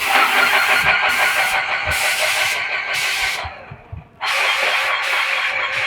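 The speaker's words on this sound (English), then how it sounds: "You can hear the pump turning, but it's a little quieter." A Titan 440 paint sprayer pump, the 2023 model, runs at low pressure with a loud mechanical drone pulsing in regular bursts, briefly dipping before picking up again.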